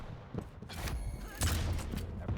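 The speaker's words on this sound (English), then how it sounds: "Decent rocket there." A rocket launcher round exploding during a Quake Pro League match, a dull boom landing among a busy mix of in-game gunfire and thuds, with a second heavier impact around the middle and a caster's voice lightly over it.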